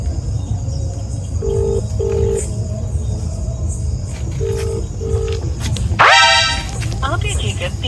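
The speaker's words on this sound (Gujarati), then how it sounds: "જેમને કોલ કર્યો છે એ જવાબ નથી આપી રહ્યા કૃપા કરી થોડા સમય પછી પ્રયાસ કરો" An unanswered phone call rings out as two pairs of double ringback tones, steady and clear, over a background rumble and chatter, ending in a burst of louder noise.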